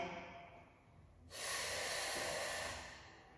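A close, forceful breath through the nose or mouth during a mat Pilates exercise, a soft hiss followed by a loud, sustained airy exhale lasting over a second.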